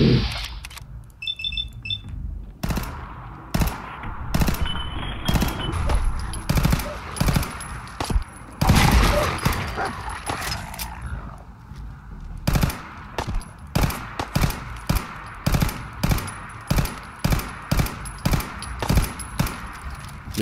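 Rapid gunfire during an attack in Fallout 4: repeated sharp shots in quick bursts, loud and close, with brief pauses and some electronic beeps in the background.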